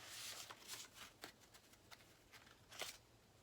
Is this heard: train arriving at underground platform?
no